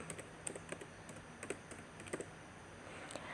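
Typing on a computer keyboard, a quiet run of irregular key clicks under a steady background hum.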